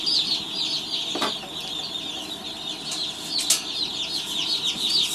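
Many baby chicks peep continuously and close together in a brooder, a dense high chirping chorus with a couple of brief rustles or flaps.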